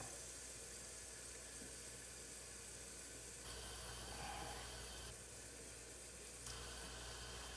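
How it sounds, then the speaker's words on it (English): Potato boats frying in a pan give off a steady, broadband sizzle, a constant hiss that holds at even loudness with slight step changes in level and no talking over it. "Hear that sizzle? That's what you want."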